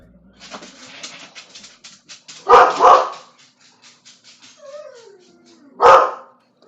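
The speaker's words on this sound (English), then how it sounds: "Sorry for the barking." A dog barks indoors: a double bark, then a single loud bark a few seconds later, with a whine in between and faint background sounds.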